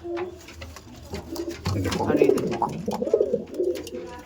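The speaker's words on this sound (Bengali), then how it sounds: "আন্ধ্রা পায়রা, তিরঙ্গা চোখের পায়রা।" Andhra pigeons with three-coloured eyes coo softly in a loft, low throaty calls repeating over faint background noise and handling sounds.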